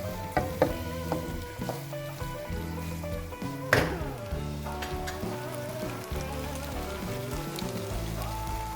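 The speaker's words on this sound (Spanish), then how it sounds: "Agregamos la pasta y revolvemos ligeramente para que la forma de los tirabuzones permita que se cuele la salsa entre sus estrías." Corkscrew pasta being stirred into an artichoke and pine mushroom cream sauce in a pan, giving a soft continuous sizzle with wet scraping and clinks, one sharper knock midway, under steady background music; no talking.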